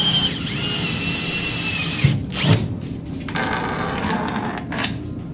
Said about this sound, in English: once you are drilling these sumps, it gets covered in diesel fuel